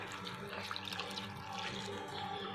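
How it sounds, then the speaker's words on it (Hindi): Water runs steadily into a metal cooking pot, a continuous splashing pour close by, with no speech. "डेगची में गाल लियो और इन थोड़ा पानी गाल सी।"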